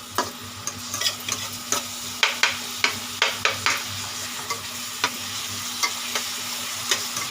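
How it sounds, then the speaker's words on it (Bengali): Spices sauté in a pan on low heat for a Bengali rohu fish roe curry, a steady soft sizzle punctuated by regular stirring scrapes and taps of a spoon, close and without talk. "এটা কম আঁচ করে আমি সাঁতলাচ্ছি।"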